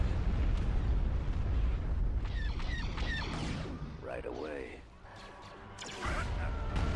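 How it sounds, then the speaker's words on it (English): Orbital bombardment in Star Wars Empire at War, a sustained rumbling barrage of explosions with heavy low-end roar, loud and continuous, under excited talking. "The orbital bombardment got the TIE fighter."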